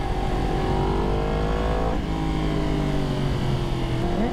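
A BMW S1000RR sport bike engine revving and pulling through the gears, a loud, close, continuous motor whine that rises in pitch, drops at a shift and climbs again.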